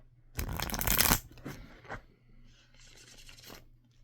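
A deck of tarot cards riffled loudly for about a second, followed by a few softer shuffles and light card handling.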